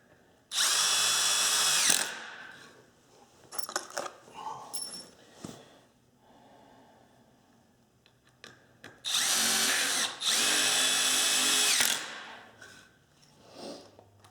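Power drill driving 3.5-inch screws into the end of a 2x4 for a firewood stand, two long loud bursts separated by quieter handling clatter, close and without talk.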